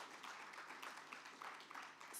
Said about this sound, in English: And a round of applause to Uganda.